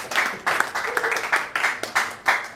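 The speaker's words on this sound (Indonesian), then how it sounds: "Berikan sorak-sorai buat Tuhan Yesus." Church congregation applauding and cheering, several bursts of clapping and shouts arriving in waves with brief lulls between them, fairly close and loud.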